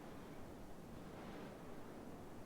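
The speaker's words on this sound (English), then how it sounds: "now I hear waves" Ocean waves ambience used as a background sound effect during a tabletop game session, a steady, faint wash of surf noise without breaks, heard alone.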